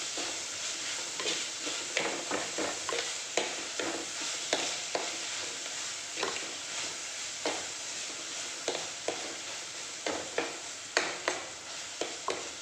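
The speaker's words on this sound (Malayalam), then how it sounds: "എല്ലാം ഒന്ന് വഴണ്ട് വന്നിട്ട് നല്ല അടിപൊളിയായിട്ട് വഴന്നിട്ട്" Onion and tomato sauté in a pan for mushroom curry, making a soft, low sizzle with regular stirring clicks and scrapes that repeat throughout, quiet and without speech.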